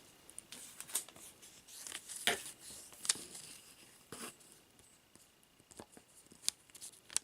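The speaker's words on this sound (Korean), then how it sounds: "여기서 가위로 다시 한번 모양을 정리해 줍니다" Scissors snip around the edges of a miniature clay figure for a Christmas cake, trimming a thin rolled-out piece into a slender shape: a series of sharp, quiet, close clicks spaced irregularly, with no talking.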